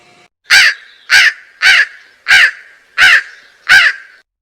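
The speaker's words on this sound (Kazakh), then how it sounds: "қарға," A cartoon-style crow caws six times, each caw loud, harsh and close, evenly spaced about half a second apart, with no other sound.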